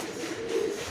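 A male Madras pigeon gives a short, soft coo at close range, a single low murmur over steady background hiss.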